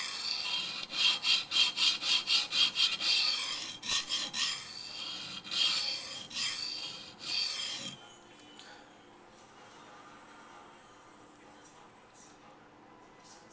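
A knife bevel is ground at a steep angle during sharpening, giving a rapid series of loud, rhythmic rasping strokes that slow into longer scrapes and then stop, leaving quiet handling noise.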